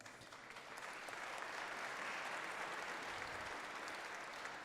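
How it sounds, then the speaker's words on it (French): Applause from a crowd at a tourism awards ceremony, a broad continuous roar of clapping hands that swells slightly and stays loud and even throughout, with no talking. "Et je crois qu'elles méritent un applaudissement pour ça"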